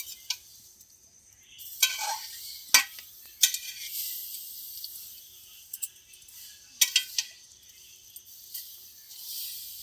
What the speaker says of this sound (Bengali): প্যাকেট চাউমিন দিয়ে দেবো। অনেকটা চাউমিন হবে। এইভাবে নেড়ে চেড়ে নেব।